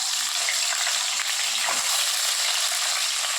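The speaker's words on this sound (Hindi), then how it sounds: "अब यहाँ पे मैं अपनी आलू फ्राई कर लूँगी।" Potatoes fry in a pan with a steady, close hiss of sizzling oil that holds at an even level throughout, without any talk.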